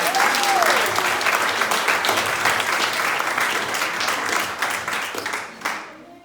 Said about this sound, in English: How about a big round of applause for Dave Plummer?